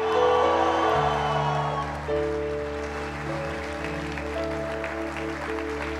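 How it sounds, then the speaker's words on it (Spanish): A church congregation at a couples' seminar applauds and cheers together, with loud music playing throughout, so the crowd noise sits partly under the sustained chords and organ-like tones. "Colócate de pie y dale un aplauso fuerte."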